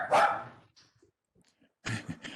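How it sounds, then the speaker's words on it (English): A dog barks nearby, one loud bark, then a pause of faint noise and a second short burst of barking. "I know it's not our dog because we don't have one"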